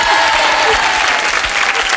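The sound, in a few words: studio audience applause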